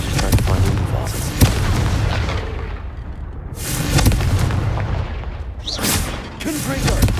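Confringo spell explosions in Hogwarts Legacy, loud booming blasts in several bursts over a dense rumbling background, with a brief voice between them.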